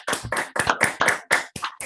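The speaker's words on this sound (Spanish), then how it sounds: "Un aplauso muy grande." Clapping at the close of a conference: about eight sharp, close claps in a steady rhythm, each ringing briefly before the next.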